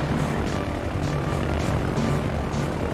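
Aircraft launched from an aircraft carrier in the naval battle game World of Warships drone loudly and steadily overhead, propeller engines whirring close with a faint pulsing rhythm.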